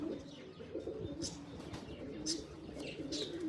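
A black Chinese pigeon coos softly and repeatedly, low rolling calls close by, mixed with faint chirps from other pigeons in a loft.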